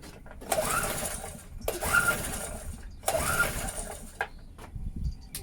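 A Medusa Compact 950 generator with carburetor trouble is pull-started three times in a row, each pull a loud rattling crank lasting about a second and a half that sputters out without the engine catching.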